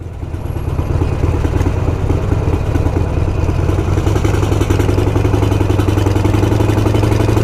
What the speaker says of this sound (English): I hear my Ducati tractor exhaust